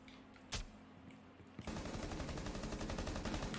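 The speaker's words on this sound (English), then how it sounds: "So I can just shoot him through the wall" Rainbow Six Siege gunfire aimed through a wall: one sharp shot, then a sustained rapid automatic burst at moderate level that carries on to the end.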